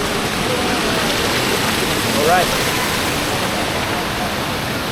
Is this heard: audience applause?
no